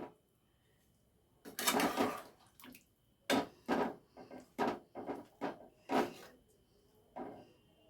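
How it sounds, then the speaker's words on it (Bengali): Potatoes for a vegetarian alur dom are gently stirred in a pan, giving about ten soft scraping and clinking strokes at an irregular pace, close and fairly quiet, with no talking. "এবার আলতো হাতে এটাকে একটু নাড়াচাড়া করে দিচ্ছি।"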